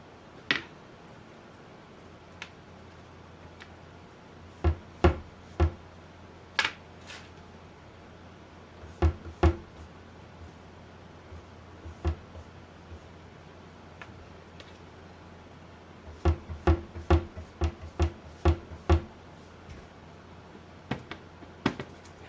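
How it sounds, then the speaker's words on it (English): A large kitchen cabinet being moved back and forth gives scattered sharp clicks and knocks, some in quick clusters, over a quiet room background with no talking. "It's just my cabinet, you know,"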